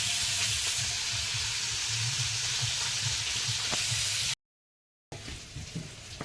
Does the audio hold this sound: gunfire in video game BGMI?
no